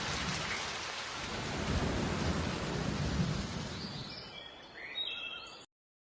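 Cartoon storm: steady heavy rain with rolling thunder swelling and fading beneath it, loud and dense throughout before it cuts off abruptly near the end, with no voices.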